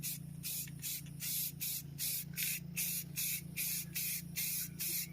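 An aerosol can spraying a final heavy coat of paint onto brake calipers, hissing in short rhythmic bursts of about half a second with brief pauses between, fairly faint and close.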